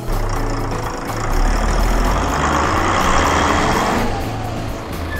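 A monster truck engine rumbles and swells loudly for a few seconds, a deep throaty roar that rises, holds, then eases slightly toward the end.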